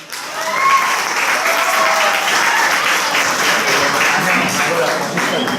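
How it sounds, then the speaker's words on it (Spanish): An audience bursts into dense, loud applause at a talk, a full, even roar of clapping that holds steady from start to finish with a few voices faintly mixed in. "Un aplauso para él"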